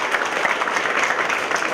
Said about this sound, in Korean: 박수 한번 더 칠까요?